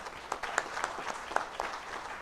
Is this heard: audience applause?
yes